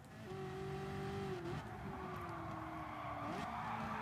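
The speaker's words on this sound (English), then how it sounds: "Look at the sound of this Ferrari" A Ferrari engine in the Gran Turismo Sport racing game, a steady high-revving drone with brief dips and pitch shifts as gears change, faint and continuous with no talk.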